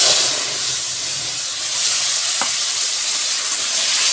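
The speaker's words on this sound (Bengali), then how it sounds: "তো চলো এবার আমি মশলাটা দিয়ে দিচ্ছি।" Paste of spices with black cumin hits hot oil in a pan for fish curry, giving a loud, continuous sizzle and hiss with a brief scrape of stirring midway and no talking.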